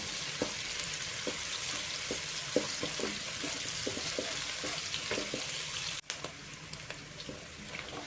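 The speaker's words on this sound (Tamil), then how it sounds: "வெங்காயம் பார்த்தீங்கன்னா நம்மளுக்கு நல்லா வணங்கிருச்சு" Onions sautéing in a pan, a soft steady sizzle with scattered small pops and crackles, faint and continuous, followed by a brief clatter partway through as something is moved in the pan.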